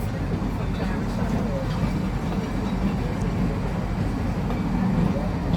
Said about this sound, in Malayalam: അപ്പോൾ ഇത് തിരിച്ച് ഷിംലയിലോട്ട് പോകുന്ന ട്രെയിനാണ്.